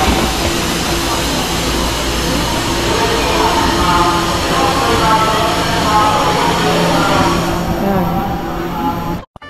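Steady rumbling ride aboard a train in Tokyo, with continuous rail and wheel noise holding at a constant loud level throughout before cutting off abruptly at the end.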